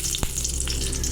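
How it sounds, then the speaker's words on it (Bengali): Bay leaf and whole cumin seeds hit hot oil in a Bengali kitchen, giving a bright, continuous sizzle with one sharp pop near the start and faint stirring underneath. "আর একটু তেল দিয়ে দেব। ফোড়ন করে নেব। তেজপাতা,"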